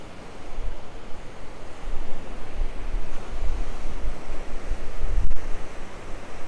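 Ocean waves and surf at El Medano beach in Tenerife, a steady broad wash of breaking water with a continuous roar, mixed with light wind noise on the microphone.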